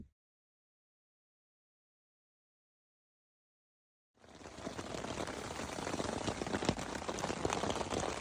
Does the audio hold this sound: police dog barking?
no